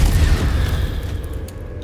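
Incendio and Confringo spells go off in Hogwarts Legacy with a loud, deep explosive boom and rumble that slowly fades, leaving faint higher game effects.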